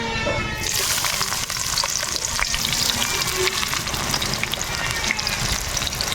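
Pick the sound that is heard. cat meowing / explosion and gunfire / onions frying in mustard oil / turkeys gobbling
onions frying in mustard oil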